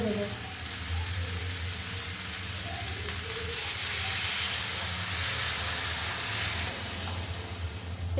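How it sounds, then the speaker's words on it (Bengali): Water poured into a hot pan of aloo begun with kechki shutki sets off a loud steam hiss that swells midway and holds as a continuous sizzle, with a low background hum and a faint voice underneath. "এবার জল ঢেলে দেবো"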